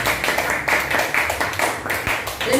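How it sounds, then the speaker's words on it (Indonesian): An indoor audience claps after a group presentation at a scout training session, a steady patter of hands with uneven rhythmic pulses, fairly close and continuous, with no voices over it. "Aplaus untuk kita sekali lagi."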